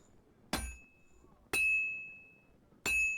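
Three sharp metallic hammer strikes on hot metal at a blacksmith's forge in Kingdom Come: Deliverance, each a bright ringing clang that decays slowly, spaced about a second apart against a quiet background.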